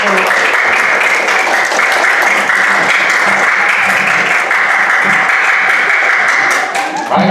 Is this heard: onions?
no